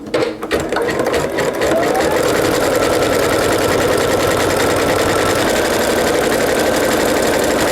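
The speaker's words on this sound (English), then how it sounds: "keep the center of your presser foot over the drawn line, and you're just going to follow those lines all the way around" Domestic sewing machine stitching fabric slowly along a curved line, a steady close mechanical whir and rapid clatter that starts after a brief moment and runs continuously.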